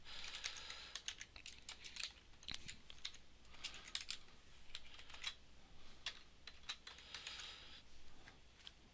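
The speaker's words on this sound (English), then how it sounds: "I can switch over to my Icelandic keyboard layout in order to just type in the letters" Steady typing on a computer keyboard, rapid irregular key clicks continuing throughout at close range with no voices.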